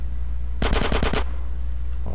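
Automatic gunfire in GTA San Andreas Definitive Edition, a single rapid burst of about six sharp shots in quick succession, loud and close, followed by quiet game ambience.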